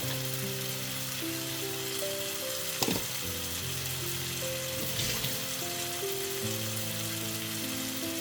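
Tomato sizzles steadily in a frying pan with a little sugar and salt, a constant close crackle with a couple of brief stirring knocks and a faint background hum.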